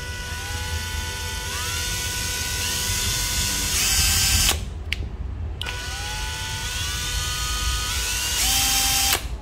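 Japanese cordless drill set to drill mode, with a steady high motor whine that repeatedly ramps up and winds down, stopping briefly midway before starting again.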